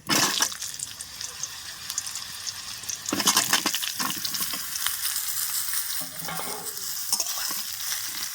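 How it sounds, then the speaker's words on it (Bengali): Half-ripe, very sour mango pieces stirred into a cooked spice mix in a pan for a tangy-spicy Bengali mango pickle, a steady scraping and wet sizzling churn that grows louder and busier partway through, with no talk. "আমটা দিয়ে হালকা আছে আমি ভালো করে নাড়াচাড়া করে নিচ্ছি"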